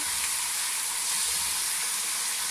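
Onions with ginger garlic paste and salt fry in a hot pan, giving a steady, loud sizzle with a bright hiss that runs unbroken and close throughout, with no voices.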